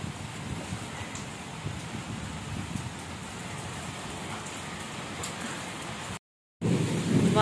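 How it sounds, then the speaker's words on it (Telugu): Heavy rain pours down in a dense, steady roar, with gusting wind buffeting the microphone in Kakinada, continuous and close, broken by one brief silent cut near the end. "బాబోయ్ వర్షం చాలా దారుణంగా వచ్చేస్తుంది."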